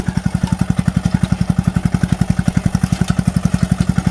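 A Saneda tractor engine runs close by with a fast, even thumping beat, loud and steady with no voices over it.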